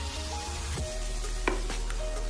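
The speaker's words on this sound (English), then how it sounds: "Give it a nice stir." Makhani pizza sauce with fresh cream is stirred in a pan, giving a soft sizzle with a few scraping strokes and light knocks up close, with no voices.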